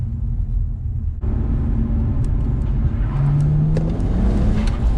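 A BMW E82 135i with full bolt-ons runs at a steady low rumble while cruising, with the engine drone loud and constant from inside the cabin and a brief tonal hum partway through.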